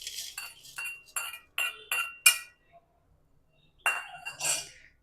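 Roasted ingredients tipped into a mixer jar with a run of sharp clinks and clatters, followed by a pause and then two more bright knocks near the end, heard up close.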